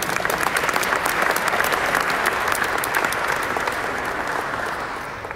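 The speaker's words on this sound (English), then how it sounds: "Give yourselves a round of applause for being here" A gala audience bursts into sustained, loud applause that stays dense for about five seconds before slowly starting to fade.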